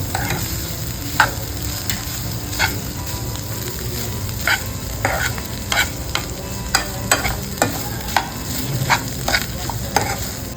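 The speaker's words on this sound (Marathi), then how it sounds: "परतून घे" Kantoli (spiny gourd) with freshly grated coconut being stirred and sautéed in a pan: a steady close sizzle with repeated sharp scrapes of a spoon against the pan.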